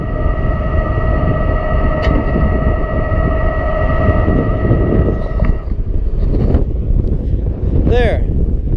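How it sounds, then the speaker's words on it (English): Gusty wind blows across an open farm field during corn planting, a loud, steady roar buffeting the microphone for the whole stretch, with a faint steady tone early on that fades midway. "Whoa, it's windy out here today."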